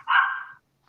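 A single short dog bark, sharp and fairly close, one clipped yelp-like burst followed by silence, heard in a busy comic convention setting.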